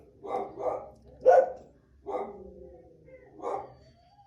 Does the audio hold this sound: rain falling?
no